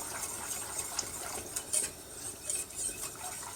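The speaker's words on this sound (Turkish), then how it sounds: "Bir çırpma teliyle güzelce çırpıyoruz" A wire whisk beats flour and water together in a bowl, giving a steady, close scraping and ticking rattle with small metallic clinks throughout, no voices.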